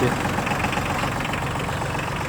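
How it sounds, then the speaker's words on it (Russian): A Yanmar F145D tractor, a 15 hp four-wheel-drive three-cylinder diesel, idles nearby with a steady, loud, even chugging that holds constant from start to finish. "Вот такой вот трактор."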